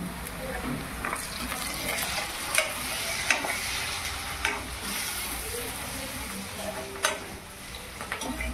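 Softened onions with five green chilies frying for a boiled egg chicken fry, a steady sizzle broken by scraping stirs and a few sharper clinks, with some running-water-like hiss mixed in.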